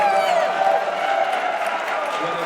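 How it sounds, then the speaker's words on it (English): Crowd at a State Capitol press event for Pennsylvania Afterschool Advocacy Day applauds and cheers for students, a loud, dense, continuous roar of clapping mixed with voices and whoops close by. "Let's give a round of applause to the students behind you,"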